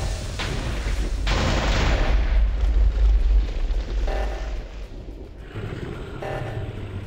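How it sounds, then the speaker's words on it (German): Deep rumbling explosions of a spaceship in the video game Minecraft roll on and off with heavy low booms and crackling debris, a loud, sustained blast sequence without any talking. "Hier ist alles am explodieren, Leute. Das Raumschiff ist komplett im Arsch."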